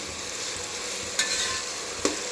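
Aloo dum biryani ingredients frying in a pan, a steady close sizzle with two sharp scraping stirs cutting through, no talking.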